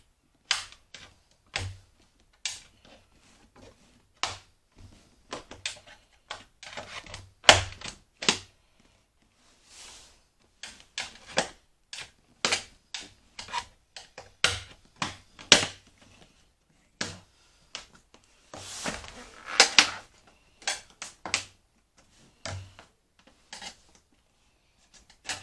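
Plastic trim clips on a Mercedes-Benz C-Class or GLK interior panel snap and click loose, some with a flathead screwdriver, in a long run of sharp, irregular pops and ticks at close range with quiet gaps between.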